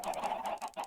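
Chickens in a Minecraft coop clucking in quick, faint repeated bursts, several short clucks in a row with no talking.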